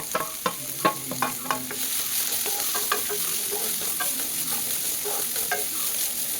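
Garlic and ginger fry in a pan with a constant hissing sizzle while a spoon stirs, giving a series of sharp scraping clicks and taps, loudest early on and alone without talk.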